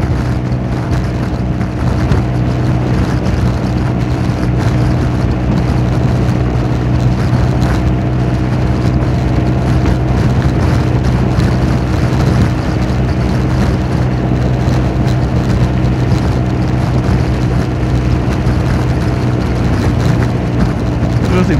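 A Honda Forza 350 scooter cruising at highway speed on a long trip, its steady engine drone blended with loud, constant wind roar that holds unbroken throughout with no clear variation.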